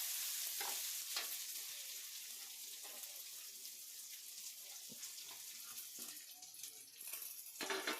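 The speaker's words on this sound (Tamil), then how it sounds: "வெங்காயம் பச்சை மிளகாய் கருவேப்பிலை எல்லாத்தையும் இதில் போட்டுடுறோம்." Onion, green chili and curry leaves fry in a pan for snake gourd poriyal, a quiet sizzling hiss with sporadic stirring clicks, slightly louder at the start and end.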